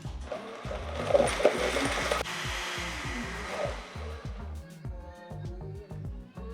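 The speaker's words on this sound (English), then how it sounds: "I'm just gonna pop it on my Vitamix, turn it on," A Vitamix blender runs on raw vegan green chile hempseed queso with a steady, loud motor whir. The whir is strongest at the start and thins into a lower, rattling hum as it runs.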